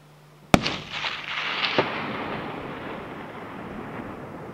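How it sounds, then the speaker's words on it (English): A single loud rifle shot cracks close by during a stone sheep hunt in British Columbia, followed by a rolling echo and a second fainter report that fade slowly across open mountain terrain. "it finally fired on the third shot on this ram"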